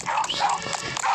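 In the Roblox game Escape the Carnival, a dog gives a quick run of close, high yips and barks that fills the short moment with no other sound.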